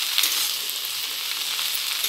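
Okra and onions fry in a pan as they are stirred, giving a steady, dense sizzle that holds evenly for about two seconds with no voices.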